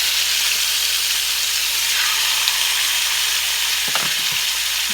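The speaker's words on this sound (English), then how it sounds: "into that I'm going to put my seasoned pork chops, and we're just going to sear them on both sides" Seasoned pork chops searing in hot vegetable oil, a loud continuous sizzle and spatter close by, with a brief clatter of handling near the end.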